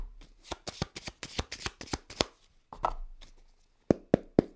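Tarot cards are shuffled by hand up close in a quick run of crisp riffling snaps, then a short pause, a softer slide and a few final sharp taps, with no talking.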